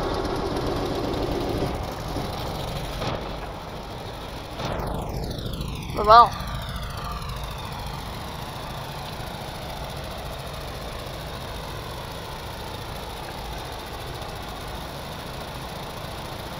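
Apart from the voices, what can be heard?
boat engine starting and idling in video game Stormworks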